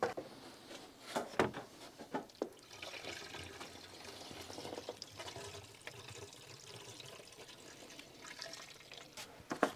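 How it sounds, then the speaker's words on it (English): Coolant is poured into the cooling system of a Fiat Panda 169 1.2 VVT after a cambelt replacement, giving a steady close-up trickle of liquid with a few louder splashes and knocks. "So I'm going to fill the coolant now and then hopefully it's leak-free."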